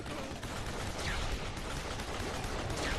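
Mounted turret gunfire in Duke Nukem Forever, a steady wash of rapid automatic shots blending into continuous noisy crackle for a few seconds, with no speech.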